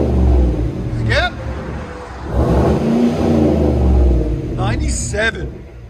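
A 2020 Chevy Silverado Z/71 with a 5.3L V8 and dual Flowmaster Super 10 exhaust revs up to the limiter, a deep, loud rumble swelling and bouncing while people talk over it.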